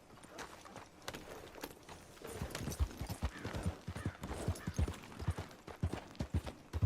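Horse hooves clip-clopping in Red Dead Redemption 2, a steady irregular trot of thuds at close range with an occasional faint whinny, no voices over it.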